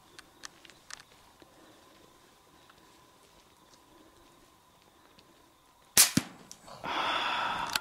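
A single sharp, loud hunting rifle shot cracks out during a rabbit and hare hunt after several seconds of near silence, followed by a brief echoing tail and a sustained burst of hissing noise.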